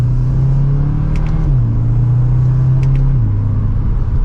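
A 2024 Audi S3 Premium Plus pulls hard from second gear, its engine a steady, loud cabin drone that drops in pitch in clear steps as it shifts up, with no talk.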